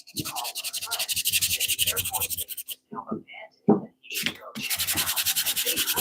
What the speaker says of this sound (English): So I'm just having to use these old cheap sanding discs.